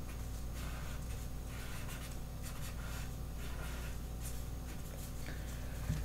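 A pencil scratches across paper while an arm is sketched, with soft, quiet strokes in short repeated bursts over a low background hum.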